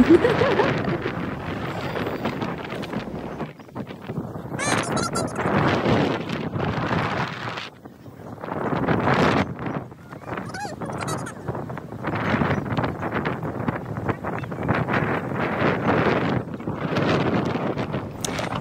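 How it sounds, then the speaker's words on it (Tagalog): Steady coastal wind gusting across the microphone on Taiwan's north coast, rising and falling in waves with brief lulls, loud and close throughout. "humahangin-hangin yan"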